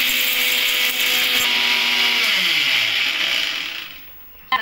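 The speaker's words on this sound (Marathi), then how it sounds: "घेऊ आता आपण पटकन मिक्सर मधून ग्राइंड करू।" A kitchen mixer grinder whirs loudly as it grinds peanuts, holding a steady high whine, then slows and winds down to near silence before a brief clunk at the end.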